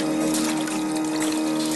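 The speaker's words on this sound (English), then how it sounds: "Pay no attention to the man climbing out of the water." Water in Metal Gear Solid splashes and churns steadily as a man climbs out, a continuous liquid wash with a steady hum underneath and no talking.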